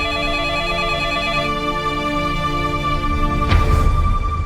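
A telephone rings indoors in a home, a loud repeating electronic ring with sustained tones, continuing throughout with a brief rustle near the end.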